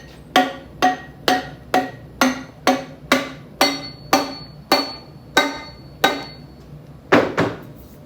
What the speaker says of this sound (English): I'm going to press this bushing on, and then this part is going to be done.